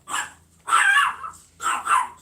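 A dog barks three times in quick succession, each bark sharp and fairly close, with short quiet gaps between them.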